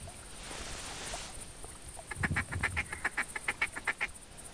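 A flock of ducks in the hunting video game theHunter: a breathy whoosh gives way to a rapid, rhythmic run of about a dozen quacks, fairly close and clear.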